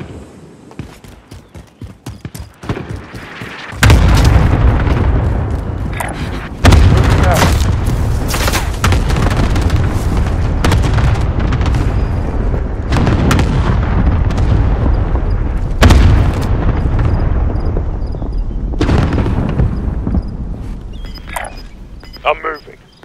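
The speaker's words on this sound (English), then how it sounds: "Allied cluster strike inbound." Cluster strike explosions in Call of Duty Modern Warfare on Rebirth Island: a string of heavy, booming blasts rolls on almost continuously and loudly after a few scattered thuds, with sharp bursts spaced through it and voices talking at moments.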